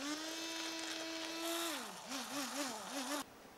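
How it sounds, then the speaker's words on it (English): Stick blender buzzing butter into a champagne velouté, a steady motor whine that then wobbles up and down in pitch as the blade works the sauce, moderately loud, then stops abruptly. "just get a stick blender. Just buzz the butter in."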